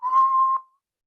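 A steady, pure whistling tone sits above a sung vocal note, held for about half a second then fading out, close and clear with no talking.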